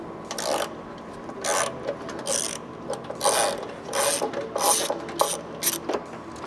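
A ratchet unbolts nuts on the oil pickup of a BRZ/GR86 engine, giving repeated bursts of close, crisp clicking strokes in an uneven rhythm, separated by brief pauses.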